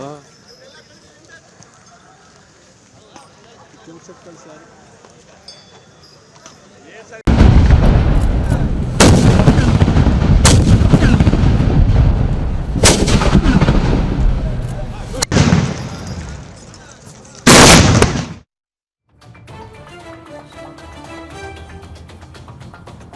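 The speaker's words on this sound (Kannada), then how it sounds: "ದಸರಾ ಆನೆಗಳ ಮುಂದೆ ಭಾರಿ ಪಟಾಕಿಗಳನ್ನು ಸಿಡಿಸಿ ಆನೆಗಳನ್ನು ಸಿದ್ಧಗೊಳಿಸಲಾಯಿತು" Loud firecracker and cannon blasts go off during a Dasara elephant rehearsal: a sustained roar of bursts with several sharp, powerful explosions, then a sudden drop to quieter background with distant crackling.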